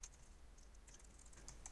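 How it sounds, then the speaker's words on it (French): A few light computer keyboard key presses tap quietly and close up, scattered irregularly over a near-silent background with no talking. "Je vais taper sur la touche de mon clavier pour passer à la ligne suivante."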